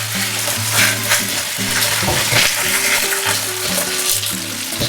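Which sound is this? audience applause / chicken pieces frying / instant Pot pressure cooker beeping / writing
chicken pieces frying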